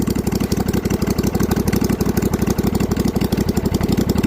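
A snow mower engine idles while warming up, a loud, close, rapid chugging pulse that stays steady and even throughout with no voices.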